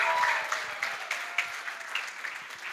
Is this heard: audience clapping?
yes